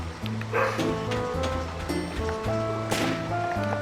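A dog in the video game Dark Cloud 2 barks repeatedly in short yips over tonal game music, with a louder bark near the end.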